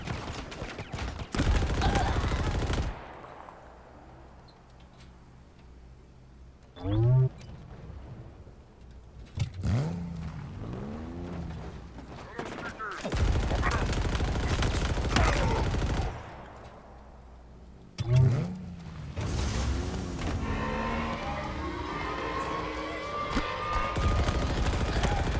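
Gunfire in the Halo Infinite campaign on Legendary difficulty: loud, repeated bursts of shooting break out in several waves, separated by quieter stretches that carry alien chirps and some vehicle engine noise.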